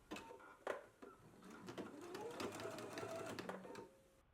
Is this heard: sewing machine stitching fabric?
yes